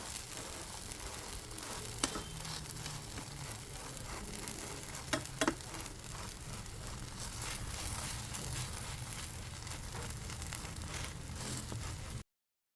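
An aloo paratha fries in ghee on a hot tawa with a continuous, even sizzle throughout, broken by a few sharp clicks and scrapes of handling.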